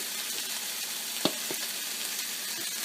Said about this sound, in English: So I'm just going to warm it up in the pan.